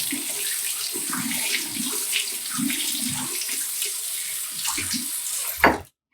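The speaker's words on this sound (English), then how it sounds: "I'm just going to do a final rinse on the razor." Merkur 34c safety razor rinsed under a running tap: a steady close splash of water with gurgles and bubbling, ending in a brief louder splash before the flow stops.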